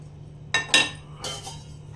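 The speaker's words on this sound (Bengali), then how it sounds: "ঢাকনা দিয়ে দিচ্ছি" A metal lid set onto a cooking pot of chana masala in a home kitchen, two sharp clinking clanks close together followed by a softer metallic rattle, loud and close against a low steady hum.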